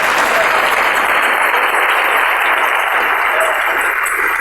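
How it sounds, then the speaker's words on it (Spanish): Congregation applauding loudly during a church service, a dense, sustained wall of clapping filling the whole stretch without pause. "Denle ese aplauso al Rey"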